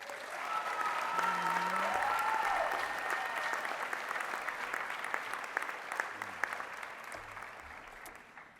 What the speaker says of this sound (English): Please, another round of applause.